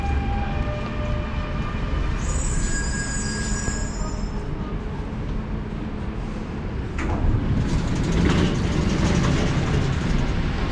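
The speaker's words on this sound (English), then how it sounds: "So the metro train has reached at the metro station." A driverless Dubai Metro train pulls into a station with a steady rumble, high-pitched wheel squeals partway through and a louder surge of noise near the end as it comes to a stop.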